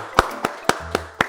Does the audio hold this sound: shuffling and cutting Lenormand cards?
no